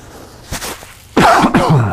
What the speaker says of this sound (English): I have a cough today for some reason